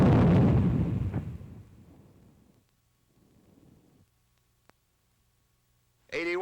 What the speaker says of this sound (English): the 60-millimeter mortar.